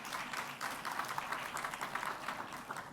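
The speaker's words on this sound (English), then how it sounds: "So big applause for SAFRA" Audience at a pharmaceutical regulation summit applauding, a soft, fairly distant patter of clapping that stays at a steady level for a few seconds.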